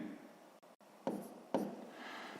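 A pen or pencil writes out a division calculation on paper, giving faint, quiet scratching strokes with a couple of short, sharper bursts and brief pauses between them.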